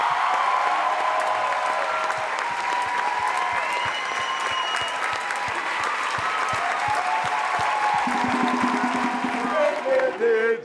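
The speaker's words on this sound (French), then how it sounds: "J'ai rien d'autre à dire que d'accueillir et sous un tonnerre d'applaudissements" A Star Academy television audience breaks into loud, sustained applause welcoming Axel, thick clapping from a large crowd over music, with voices and cheers rising near the end.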